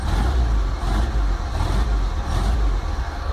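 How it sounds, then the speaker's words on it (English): A VW T25 camper van engine runs on a cold start with no choke, giving a loud, close, rough idle with gentle throttle blips that swell and dip over a steady low rumble. "because it's got no choke, you have to tickle the throttle a little bit"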